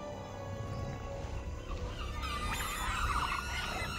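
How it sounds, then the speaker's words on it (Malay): Cartoon dinosaur crying out for help, a loud roaring animal call that rises into a strained, wavering cry midway, heard alone over a steady rumbling background. "Ini bunyi Dino minta tolong."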